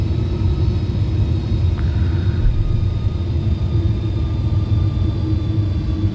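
Boeing MD-11F cargo jet engines in a flight simulator game give a constant low rumble and drone while the plane sits at Luxembourg before departure, with steady tonal whines on top. The sound is loud and continuous, with no speech.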